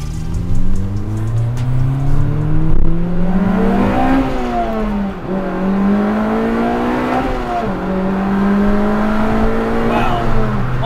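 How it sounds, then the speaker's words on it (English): A JDM Honda Civic Type R FD2 with its naturally aspirated 2-litre four-cylinder K20A engine, driving and revving up through the gears, the engine note climbing and dropping in several close, loud pulls. "And you can just hear the purr of that K20A engine."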